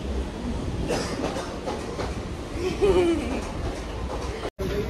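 A train runs steadily with a continuous low rumble and rolling wheel noise, heard from inside a carriage, with faint voices and a brief squeal partway through before a short dropout near the end.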